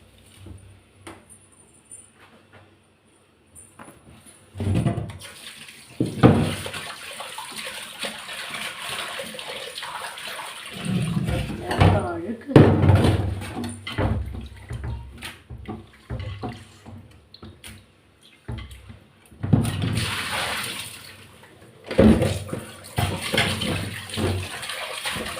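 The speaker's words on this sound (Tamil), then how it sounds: "இப்போ இந்த மீன் கழுவுறதுக்கு வந்து இந்த உப்பு தான் ஸ்க்ரப்பர்" Fish being scrubbed clean with coarse rock salt under running water, a splashing, rushing water sound that comes in uneven bursts with quieter pauses between, close by, with no talking.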